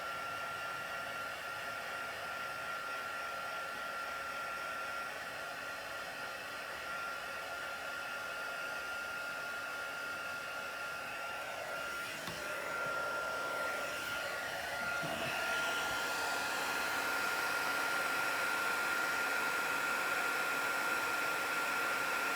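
Heat tool blowing steadily while warming up over a craft project wrapping a ribbon reel, a continuous loud airy whoosh with a faint whine that grows slightly louder, nearby and with no talking.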